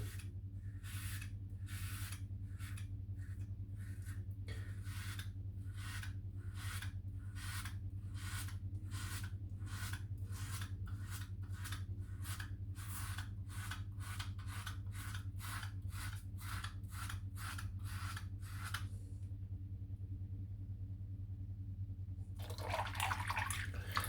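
Close, regular scraping strokes of a razor over the scalp during a head shave, going against the grain with shaving cream, repeated about every second, then a pause and a splash of warm water.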